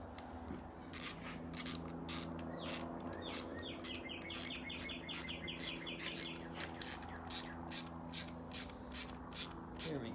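A hand ratchet tightens the mounting bolts on a GM alternator, giving crisp, evenly spaced clicks in repeated bursts, close by, over a low steady hum and a faint brief bird-like chirping in the background.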